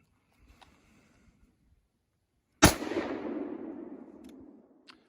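A single sharp, loud gunshot from a home-defense firearm fired indoors at a target 17 feet away, with a long ringing room decay trailing off over about two seconds after near silence.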